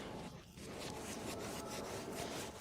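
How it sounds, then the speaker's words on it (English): A wax brush sweeps over a decoupaged old typographer's chest of drawers, a faint, soft rubbing and scratching that repeats in steady strokes with no talk. "I spread the wax all over, both on the decoupage on the top and underneath."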